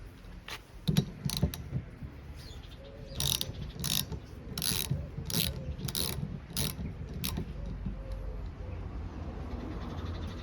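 A ratchet undoes a 13mm bolt on a Range Rover, clicking in quick bursts of pawl ticks with pauses between strokes, close and fairly quiet, over a faint background.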